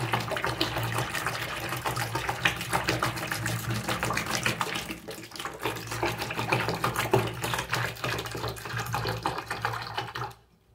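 1.5 liters of room-temperature water pours steadily into a bathroom cleaning mixture, a continuous close splashing stream lasting about ten seconds before cutting off abruptly.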